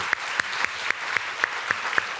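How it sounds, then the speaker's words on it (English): Applause from an audience at a fireside chat on stage: eight sharp, evenly spaced claps sound fairly faint and thin over quiet room noise. "please give Harry a round of applause."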